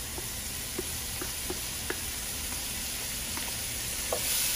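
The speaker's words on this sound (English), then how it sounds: "And going to saute for a couple of minutes before next part of the step." A mixture of roasted peppers and garlic sautéing in melted butter gives a steady, even sizzle with faint stirring taps scattered through it.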